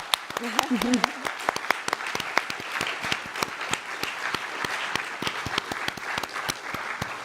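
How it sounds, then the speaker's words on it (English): Event audience giving a round of applause for the host committee, a modest crowd with distinct individual claps spread steadily throughout, a voice speaking briefly at the start. "Let's give these guys a round of applause and take a good look."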